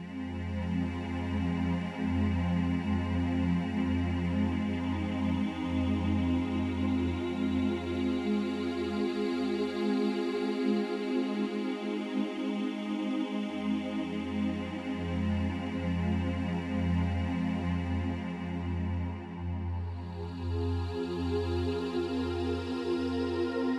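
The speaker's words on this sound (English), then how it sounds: "I call this distant dark voices because it's kind of dark pad sound." A dark synthesizer pad from a BLADE-2 soft synth holds a steady, low, humming drone with a faint choir-like vowel colour. It pulses gently, briefly thins out in the middle, then returns, with no voices over it.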